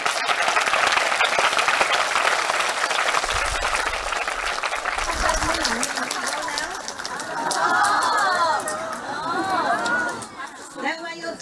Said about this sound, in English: That's why you're clapping.